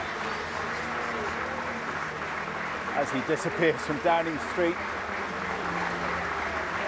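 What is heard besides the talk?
crowd applause in Downing Street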